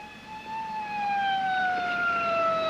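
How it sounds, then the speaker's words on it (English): A loud, steady siren wail with a slowly falling pitch, close by and continuous, alone with no voices. "Sounds like an ambulance. Or cops."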